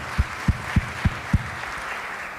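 Applause rises from the audience at a forum on green hydrogen financing in Africa, held in Nouakchott: a steady wash of clapping under five evenly spaced low thumps, with no speech.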